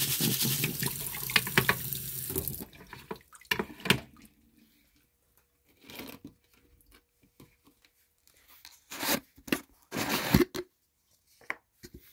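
Tumbled garnet stones get rinsed off under running water, with a long splashing stream at first, then short separate bursts of water and rattling stones broken by quiet gaps.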